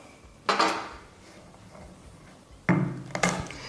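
A knife blade pressed down on garlic cloves against a board produces two sharp knocks with clattery impacts, the second longer and heavier, separated by near-silence.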